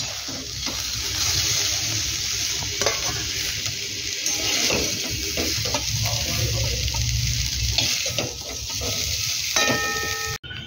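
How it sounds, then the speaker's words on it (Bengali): Soybean chunks frying in oil until lightly browned for a Bengali-style soybean curry, a steady close-up sizzle with occasional stirring scrapes and clinks throughout, no talking. "এবার সয়াবিনটাকে হালকা ব্রাউন হয়ে আসা পর্যন্ত ভেজে নেব।"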